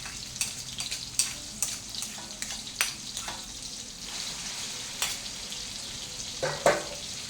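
Thai herbal chili paste (jaew bong) stir-fried in a pan, a steady close sizzle broken by repeated scraping stirs, with a few louder knocks near the end and no talking.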